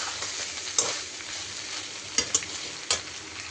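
Mixed vegetables (cucumber, cauliflower, long beans, carrot, eggplant, flat beans and potato) sizzle in a frying pan, with a steady hiss broken by a few sharp scraping stirs of a utensil, close and alone.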